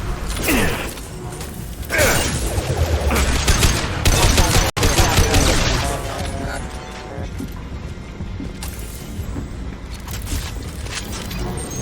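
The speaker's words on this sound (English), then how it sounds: "Firing concussive shot" A concussive shot is fired in Mass Effect 2, a heavy thumping blast among rattling weapon fire and mechanical whirs, with a brief sharp crack midway and combat noise continuing after.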